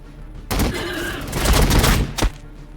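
Gunfire in the video game Warhammer 40,000 Battlesector: a loud, dense volley of shots erupts, rolls on for nearly two seconds, then ends with one last sharp crack before falling quiet.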